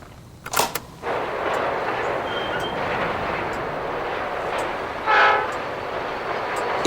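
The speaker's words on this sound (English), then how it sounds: "The B-62 back in 77. The first diesel-electric locomotive to run 1 million miles in Australia." Australian B-class diesel-electric locomotive B-62 from 1977, a sharp bang near the start then a steady, loud rumbling roar of the engine and wagons, with a brief horn-like tone midway and no talking.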